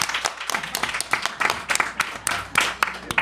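A small audience at a village community forum claps for a few seconds, a fairly dense round of applause with individual hand claps audible, nearby and moderately loud.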